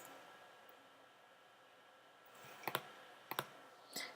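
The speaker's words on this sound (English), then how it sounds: "Just use my arrow keys to move it around." Computer keyboard arrow keys are pressed while working on a brochure text-wrap layout: a few sharp, soft clicks in small clusters near the end, over a faint steady hiss, with no voice.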